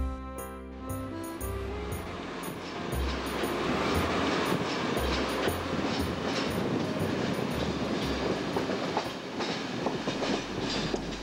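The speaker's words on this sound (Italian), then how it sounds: "Riparto col diretto 2165 per Milano." Direct train 2165 to Milan departs Cervo station on the Riviera dei Fiori, its rumble and wheel clatter building and holding steady at close range beneath a musical backing.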